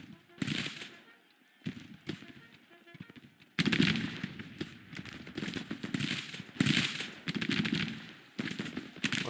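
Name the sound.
infantry gunfire volley in the video game Grand Tactician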